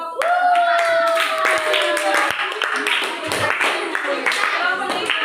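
Students in a classroom clap for a presenting group, scattered handclaps running under a teacher's ongoing speech and other voices.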